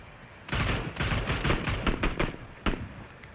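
PUBG Mobile gunfire: sharp bursts of rapid shots start after a quiet lead-in, with a few spaced volleys and a final isolated loud shot near the end, fairly close and prominent.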